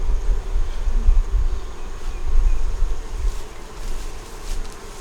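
Honey bees buzzing around an opened hive during a beekeeping inspection, a steady close drone of many insects with soft rustling and no talk.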